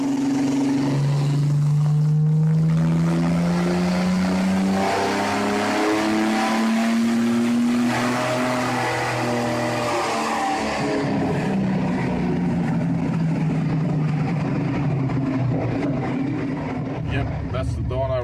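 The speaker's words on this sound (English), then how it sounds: "That's the dyno run, first off the bat." A car engine revving up through a dyno run, its pitch climbing steadily over several seconds before easing off, loud and close, with people talking over it.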